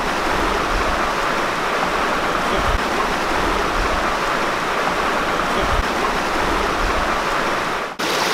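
Constant rushing of water flowing in Cataract Creek, a loud, dense, close stream roar with no pauses or voices, cut off by a short handling knock near the end.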